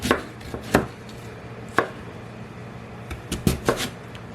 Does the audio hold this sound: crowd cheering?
no